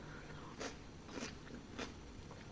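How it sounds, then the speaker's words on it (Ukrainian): Three evenly spaced crisp crunches of someone biting and chewing a crunchy pickled cucumber, faint over a low background hiss. "Сподіваюся, що вам чути, як воно хрумтить"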